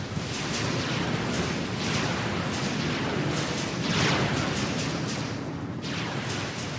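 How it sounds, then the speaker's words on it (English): Coastal artillery firing during a naval battle in a video game, a dense continuous barrage of distant booms and gunfire rumbling without pause for several seconds. "we see the coastal artillery working here"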